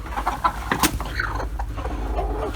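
Hen clucking inside a cleaned farm coop as a broody hen is lifted off her nest, with short clucks and squawks close by over steady background noise.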